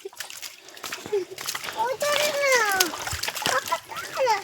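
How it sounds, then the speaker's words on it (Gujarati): Water splashes and sloshes around as someone wades through it, with children's voices and chatter close by over the splashing. "આ પાણીમાં જ હાલવાનું છે"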